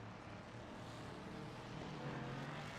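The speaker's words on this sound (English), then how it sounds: "Look, you hear the car." A race car engine in Assetto Corsa Competizione at Brands Hatch drones at a steady, fairly faint, muffled level, heard from a distance without talk over it.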